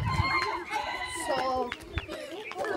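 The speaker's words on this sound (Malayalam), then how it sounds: "വിവിധതരം കോഴികളാണ് കാണുന്നത്." Chickens of several breeds at a forest farm house, with cackling, clucking and a crow rising over one another in a busy, close flock while people talk in the background.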